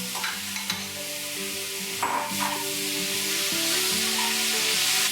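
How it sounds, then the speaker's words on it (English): Chopped tomatoes with ginger paste sauteing in a pan for a chicken tawa pulao, a steady close sizzle with scraping stir strokes and light clinks, and a melodic tone running underneath throughout. "While I'm sauteing these tomatoes, I'm also mashing them."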